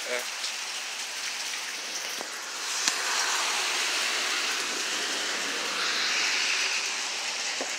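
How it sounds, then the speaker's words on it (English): Steady rain pours down in a dense, continuous hiss, with a few sharper drips and taps standing out; the downpour swells slightly louder near the end. "It's raining."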